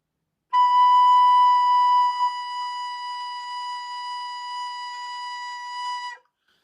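High B played on a recorder: one long, steady, pure whistling note held for about five and a half seconds, clear and close with a brief wobble early on, then cut off cleanly.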